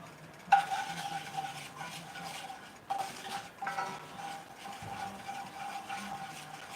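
Flour worked into sausage fat in a rare cast iron skillet with a steady, soft scraping and rubbing that runs continuously and stays fairly quiet, with a sharper scrape near the start and no one talking.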